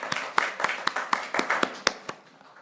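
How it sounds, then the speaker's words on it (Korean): Children's church congregation clapping for a correct quiz answer, a scattering of sharp, uneven hand claps close by, about a dozen over a few seconds, fading toward the end. "우리 박수 쳐주시기 바랍니다."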